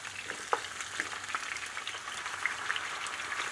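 Calabrian pork sizzles and fries in a pan with hot cherry peppers nearby, giving a steady close crackle with scattered small pops and no talking.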